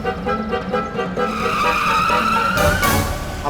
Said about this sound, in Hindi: अरे तू गाड़ी भगा ना